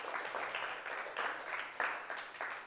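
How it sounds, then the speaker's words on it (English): Children in a classroom clap together for classmates during a storytelling lesson, a moderate patter of hands with small bursts of emphasis, slightly loose and uneven, with a faint voice in the background. "Give them a clap."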